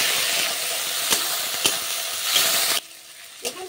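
Spices and sour yogurt sauté in a hot pan for a rohu fish curry with cauliflower, giving a steady close sizzle with a few sharp crackles. The sizzle drops off abruptly near the end, leaving a quieter hiss.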